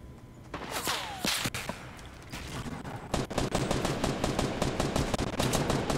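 Gunfire in the game Fortnite: several scattered shots early on, then a fast run of repeated automatic bursts, loud and close.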